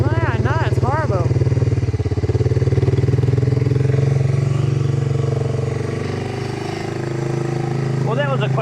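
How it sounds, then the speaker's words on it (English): Motorbike ride on a windy day in New Zealand, a loud steady engine drone throughout with wind buffeting, while people talk over it. "that was a quick motorbike ride"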